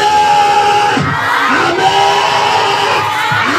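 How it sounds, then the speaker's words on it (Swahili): A church congregation ululates and shouts for joy in a loud, continuous roar of high trilling voices and cheering filling the room. "ongeza vigelegele, ongeza shangwe, ongeza vigelegele vya furaha"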